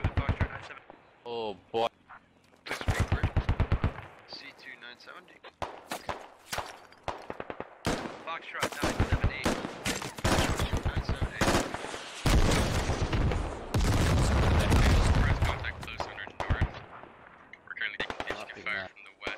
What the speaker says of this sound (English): the Dishka is now opening up